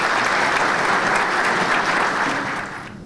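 A banquet audience claps together at an official dinner, a loud, sustained burst of applause that fills about three seconds before fading out at the end.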